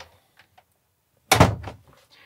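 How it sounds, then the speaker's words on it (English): A cabin door on a Sealine S39 sportscruiser closes with a single solid thunk, close by and fairly loud, followed by a short rattling settle, with a few faint knocks before it in an otherwise quiet interior. "I close that door back over."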